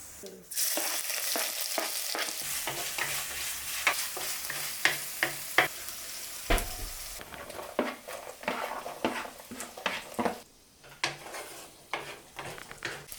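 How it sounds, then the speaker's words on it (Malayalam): Steady loud sizzling of ginger and garlic frying in hot oil, broken by repeated scraping and stirring clatters from a spatula against the pan. "പൊട്ടി വരുമ്പോളേ അതിലേക്ക് ഇഞ്ചിയും വെളുത്തുള്ളും ചേർത്ത് ഇട്ടോളൂ"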